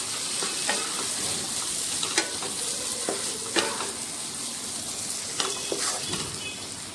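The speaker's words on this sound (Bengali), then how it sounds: "এর মধ্যে দিয়ে দিচ্ছি কুচিয়ে রাখা ধনেপাতা। এটা আমি ভালো করে নেড়ে নেব।" Small fish chorchori with chopped coriander sizzles steadily in a pan while being stirred, a constant frying hiss broken by several sharp scrapes and clinks of the spoon against the metal pan, no voices.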